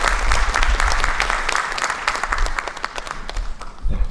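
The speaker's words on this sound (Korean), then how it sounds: "모실 때 우리 따뜻한 박수로 맞이해 주시기 바랍니다" Audience in a church hall giving warm, steady applause to welcome a pastor to the stage, a dense wash of clapping that briefly dips then swells again.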